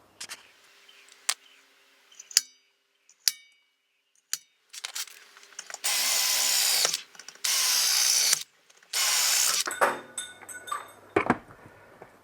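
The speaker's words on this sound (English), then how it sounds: "I'll just cut these little spot welds out and reposition this little bracket up above" Spot welds are cut out of a steel bandsaw guard bracket with a power drill. Several sharp clicks and clanks come first, then three long, loud, steady grinding bursts close by, with no talk.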